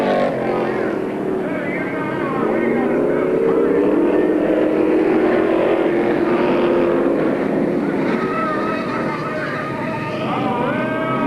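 Race cars roar past on an oval raceway during a crash, engines whining loudly and shifting in pitch over a continuous loud drone, with a commentator talking over it.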